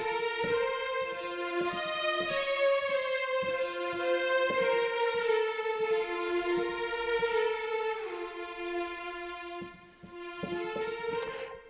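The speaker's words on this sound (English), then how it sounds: "if we load up the performance legato for Spitfire symphonic strings, it sounds like this" Spitfire Symphonic Strings performance legato sample library playing a smooth, sustained string ensemble line with gliding note transitions, full and continuous, dipping briefly near the end.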